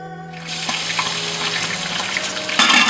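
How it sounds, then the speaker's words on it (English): Chopped garlic and ginger hit hot oil in a pressure cooker, breaking into a steady hissing sizzle that swells slightly near the end, close and fairly loud with no talking. "In a pressure cooker, I added a little bit of oil and putting in some chopped garlic and ginger just to get them to sweat."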